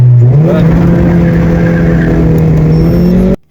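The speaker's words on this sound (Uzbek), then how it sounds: "Ko'ramiz ovozini, motor ovozini." A Daewoo Matiz with a 1.2-litre Spark engine revs hard and close, its droning tone rising quickly and holding strong before cutting off abruptly near the end.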